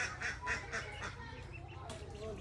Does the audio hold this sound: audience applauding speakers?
no